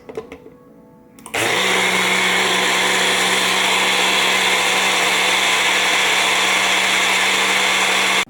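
A kitchen blender whips heavy cream into whipped cream for strawberry shortcake: a short quiet moment, then the motor kicks on into a loud, steady, high whir that holds until it cuts off at the end.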